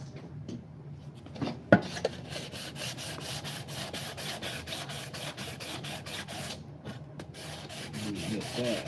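A light housing is wet sanded by hand, close and steady rhythmic back-and-forth scrubbing strokes repeating evenly throughout, with a couple of sharper knocks near the start.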